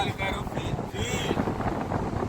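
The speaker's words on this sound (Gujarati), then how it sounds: "લહેરોનો અવાજ સાંભળો." Wind gusting hard across the microphone on a beach, with a steady rush of sea waves beneath it and a faint voice talking.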